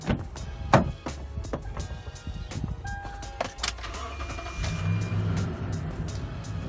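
A 2012 Toyota Sequoia Limited cranks and fires up, a brief starter whir and clunks giving way to a steady low engine idle that settles in close by.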